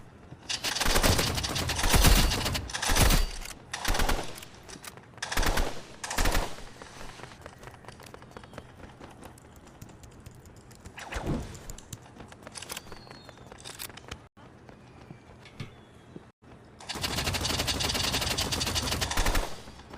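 Burst rifle gunfire from a first-person shooter video game, loud rapid bursts of shots repeating in clusters, with quieter stretches between and a long sustained volley near the end.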